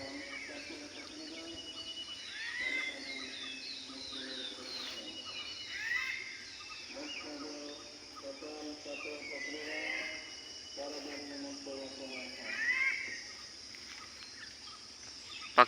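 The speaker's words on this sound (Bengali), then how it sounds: "পাখিদের কি চমৎকার ডাক।" Birds calling on a village morning in Chandpur, Bangladesh, with repeated chirps and tweets over a steady insect-like background hum, moderately distant and fairly quiet throughout.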